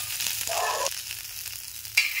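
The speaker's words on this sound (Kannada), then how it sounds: "ನೋಡಿರಿ ಬೆಂಡಿಕಾಯಿಗಳು ಕಟ್ ಮಾಡಿವ, ಹಂಚಿಗೆ ಹಾಕೀನಿ ರೀ. ಒಂದು ಸ್ವಲ್ಪ ಎಣ್ಣೆ ಹಾಕ್ತೀನಿ ನೋಡಿ" Cut okra frying in a little oil in a pan, a steady close sizzle with a brief scrape of stirring and a light clink near the end, no voices.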